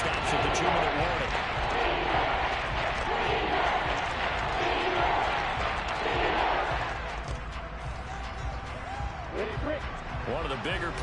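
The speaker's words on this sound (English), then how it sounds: "the crowd getting into it as we come up on a big third down" A football stadium crowd roars steadily on a big third down, a dense and loud wall of noise that dips slightly toward the end, with no clear speech over it.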